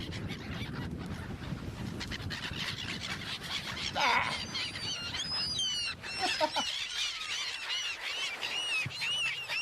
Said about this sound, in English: That is a lot of seagull sounds.